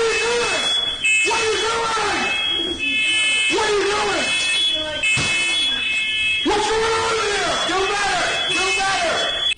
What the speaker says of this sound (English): He sets off the fire alarm for the 5th time.